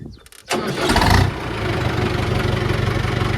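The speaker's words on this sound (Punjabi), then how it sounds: "ਟਰੈਕਟਰ ਕਰਨ ਲੱਗੇ ਆ ਮੰਡੀ 'ਚ ਕੱਢੀਏ ਗੇਅਰ ਕਰੀਏ ਸਟਾਰਟ" A tractor engine cranks and catches in a market yard, then settles into a loud, throbbing diesel idle close by.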